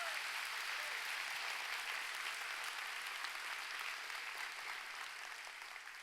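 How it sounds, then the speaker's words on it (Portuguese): Church congregation applauding Jesus during a worship service, steady sustained clapping filling the hall, loud and continuous throughout with a slight fade at the end. "Pode ser mais forte esse aplauso para Jesus mesmo, que Ele merece."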